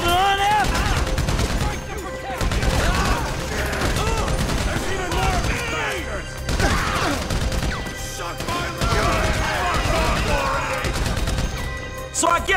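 Sustained gunfire from a Grand Theft Auto V bank robbery shootout, with dense bursts and repeated shots running continuously at loud, close range while voices talk over the action.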